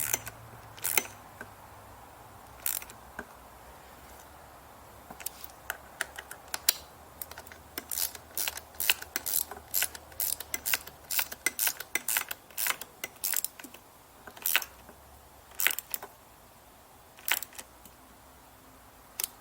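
A ratchet tightens hyperdamper bolts with bursts of rapid, close clicks that come in short, irregular runs separated by pauses. No one speaks.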